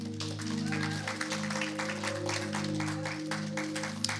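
A church congregation claps in a steady patter beneath sustained musical tones, moderately quiet and even throughout.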